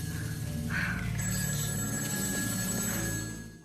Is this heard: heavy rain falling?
no